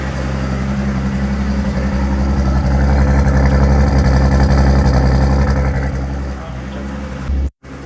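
BMW 325i turbo engine idling after starting, a steady low rumbling hum that swells slightly then eases, heard up close with a person talking over it.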